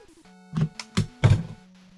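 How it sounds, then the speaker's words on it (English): A computer mouse knocked off a desk makes three quick, dull thunks as it hits and bounces on a hard floor, close and fairly loud against a faint steady hum. "I just, like, punched my mouse off of my desk."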